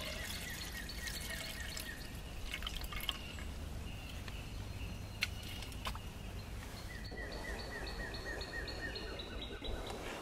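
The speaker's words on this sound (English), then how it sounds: "Then take the cloth over the container and then pour the water into your other container." Water is poured through a cloth into a container outdoors at a campsite. It makes a faint, steady trickle and drip over soft open-air background noise, with birds calling now and then and no talking.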